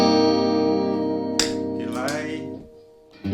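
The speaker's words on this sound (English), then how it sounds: "Chorus." Electric guitar played through a chorus pedal on a pedalboard, a sustained shimmering chord ringing out loud with a brief strum in the middle before fading.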